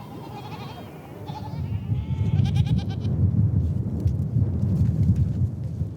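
Goats and sheep bleating around a desert watering hole in Mongolia, a few calls standing out over a loud, steady rumble of wind and herd noise that fills the whole stretch.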